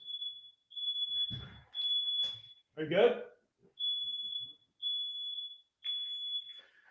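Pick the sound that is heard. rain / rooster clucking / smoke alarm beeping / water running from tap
smoke alarm beeping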